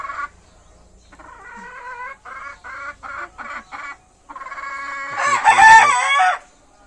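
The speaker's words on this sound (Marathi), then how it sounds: "आवाज पण करत आहे कोंबडी" A hen about to lay an egg cackles close by in a series of short rhythmic clucks, building to a louder, excited squawking burst before falling quiet.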